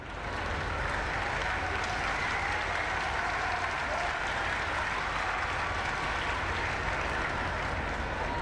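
A large audience at a college ceremony in Gorakhpur claps loudly and steadily to honour teachers, a dense continuous wash of applause lasting throughout with no pauses.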